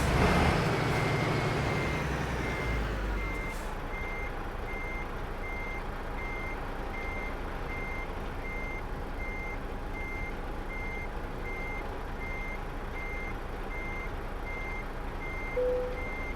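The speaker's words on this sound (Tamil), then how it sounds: "அப்படியே ரிவர்ஸ் போ." In Euro Truck Simulator 2, a truck's reversing alarm beeps in a steady, evenly spaced series of sharp tones over a low idling engine rumble, following a brief louder burst of engine noise at the start.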